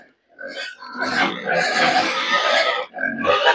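Young fattening pigs grunting and squealing at feeding time on a small farm pen, loud and close, with several overlapping animals in a continuous noisy chorus.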